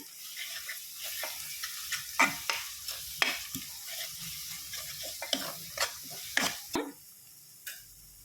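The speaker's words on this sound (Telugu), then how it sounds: "ఇప్పుడు ఇందులో అల్లం ఎల్లిగడ్డ పేస్ట్ వేసుకోండి, ఫ్రెష్ది." Fresh ginger garlic paste sizzling in oil for a brinjal curry, a soft crackling fry broken by repeated spoon scrapes and taps against the pan, close up and fairly quiet.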